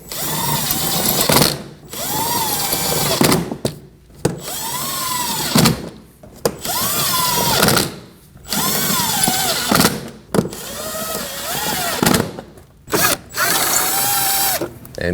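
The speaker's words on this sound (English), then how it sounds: "We can get the screws back in." Power drill driving screws back into a 2015-2024 Ford Edge 2.0L during a repair. About six loud, close whirring bursts come in a steady rhythm, each separated by a brief pause, with no talking.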